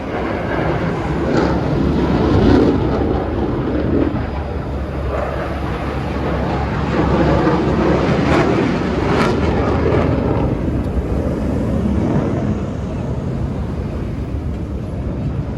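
A continuous F-16 Fighting Falcon jet roar rumbles steadily throughout, broad and loud, with a slight swell as it passes overhead during an Indonesian military weapons parade.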